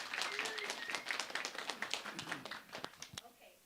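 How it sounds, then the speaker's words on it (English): A round of applause at a holiday celebration: a small group claps in quick, uneven bursts that gradually thin out, with voices talking over the clapping. "Round of applause."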